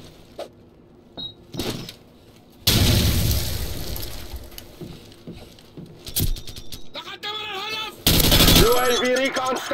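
Minigun from Call of Duty Modern Warfare, heard as loud bursts of rapid fire, one long and one shorter, amid game effects, announcer voice lines and explosions.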